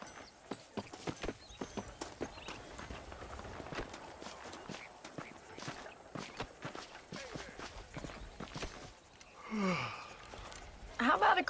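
Horse hooves clip-clopping in a steady walking rhythm during a ride in the video game Red Dead Redemption, fairly close and even, with a louder burst and rustling near the end and talk nearby.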